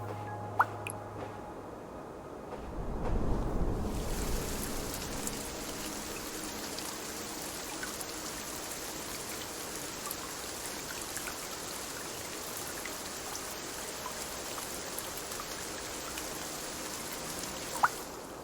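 Soft, steady rainfall in the video game Cloud Gardens, a gentle hiss of drops and light patter on surfaces that continues evenly throughout, with a brief swell early on.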